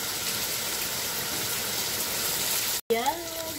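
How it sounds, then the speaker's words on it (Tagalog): Heavy rain on a cold day produces a steady, loud broadband rush throughout, briefly cut off near the end before a voice speaks over it. "Ang lakas ng ulan."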